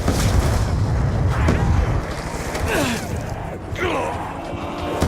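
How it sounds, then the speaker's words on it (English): In a video game, a player blows himself up: a loud booming blast with rumbling gunfire-like impacts, a dense roar that fades into sweeping, whistling debris sounds. "Snakeblood blows himself up by shooting a teammate in the back."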